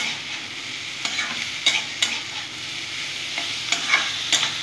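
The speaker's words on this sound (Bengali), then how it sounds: "সুন্দর করে আমি এটা ভাজা ভাজা করে নেব বন্ধুরা, কাঁকরোলটা নুন হলুদের সাথে" Steady oil sizzling as spiny gourd pieces with salt and turmeric fry in a pan, with occasional sharp scraping clicks of a spatula stirring, no voices.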